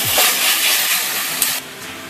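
Potatoes fry in spices in a pan for a Bengali prawn curry, giving a loud, steady sizzling hiss throughout with no talk.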